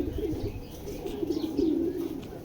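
Racing pigeons give a continuous low, warbling coo that rises in the middle and trails on, close and fairly loud, with a light rustle behind it.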